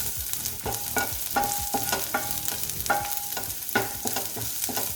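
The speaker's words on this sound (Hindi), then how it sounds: "इसमें ऐड करेंगे हम जिंजर, और गार्लिक, कर देंगे इसको।" Ginger and garlic stir-fry in a hot pan for a baby corn chilli dish, with a steady sizzle broken by repeated scraping and clinking strokes of a spoon against the pan.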